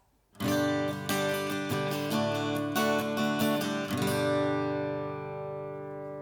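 A dry carbon fiber acoustic guitar, reverb off, strums several chords in a quick rhythm, then lets the last chord ring out and slowly decay, close and clear with no voices.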